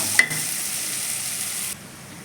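Poha seasoning with turmeric and lemon fries in hot oil in a pan, a bright steady sizzle after a single sharp clink, cutting off abruptly near the end.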